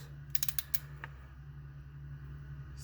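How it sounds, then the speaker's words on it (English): A torque wrench tightens valve lash nuts on a 12-valve Cummins engine: a quick run of small ratcheting clicks, then a single click, over a steady low hum. "So I'm using a torque wrench here, and I've got it set to 18 foot-pounds."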